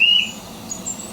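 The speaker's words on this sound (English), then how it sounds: "just switch those birds off a bit." Birds chirp in a few brief, thin high tweets, one clearer call at the start and fainter ones later, set against a low steady background hum.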